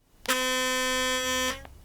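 A steady electric buzz runs for just over a second, starting and stopping abruptly, loud and close-up, like a sonic toothbrush switched on.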